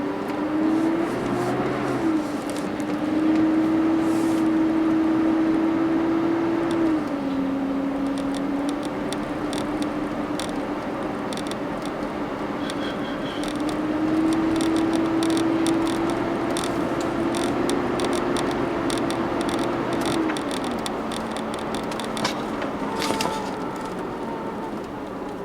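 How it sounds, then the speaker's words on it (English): A car's power steering pump, low on fluid, whines while driving, a steady tonal drone that slowly rises and falls in pitch over road and engine noise, with light rattling and clicking near the end. "That's my power steering pump you hear making noise."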